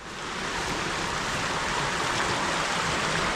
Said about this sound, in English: This is the West Fork of the Little Colorado River